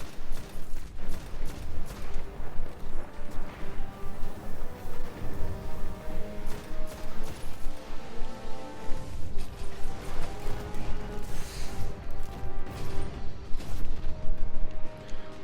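Gjallarhorn rocket launcher firing at enemies during a solo Nightfall strike in Destiny, a dense barrage of booming blasts and explosions with heavy low rumble, layered over busy game effects and music.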